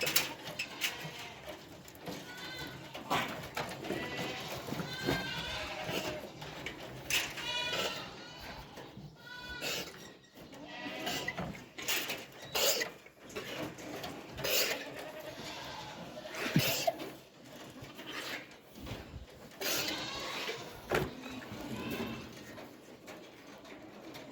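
Goats at a small movable goat shelter bleat repeatedly and loudly, overlapping calls coming close and in quick bursts throughout, with a voice heard briefly.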